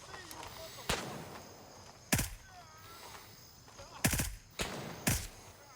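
Video game gunfire in a Mithras loot run, several sharp, loud single shots spaced unevenly across the clip, a couple in quick pairs, over a quiet background with a faint voice.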